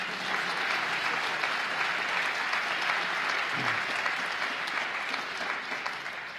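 An audience at a State of the State address in the Bronx breaks into steady, sustained applause, a dense wash of clapping that holds at an even level for several seconds, with no voice over it.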